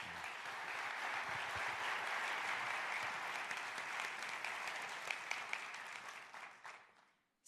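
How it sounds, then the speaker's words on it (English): A sustained round of applause from a press conference audience at CES 2024 in Las Vegas, loud and steady, fading out near the end. "Please give him a big round of applause."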